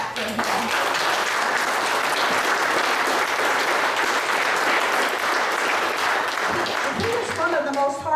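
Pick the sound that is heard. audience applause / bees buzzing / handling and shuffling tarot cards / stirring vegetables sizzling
audience applause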